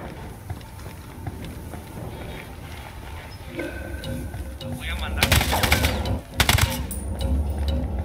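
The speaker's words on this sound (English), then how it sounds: "I'm opening fire on these shitheads." Gunfire from a player opening fire in Ghost Recon Wildlands, a couple of sharp broadband bursts in the second half over steady game ambience and low rumble, fairly loud and close.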